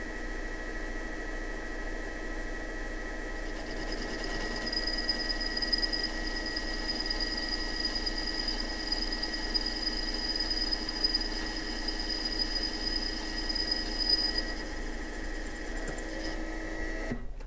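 A metal lathe taking a final boring cut at roughly 500-600 RPM, a steady close machine hum with a thin high cutting whine that holds through the middle of the run.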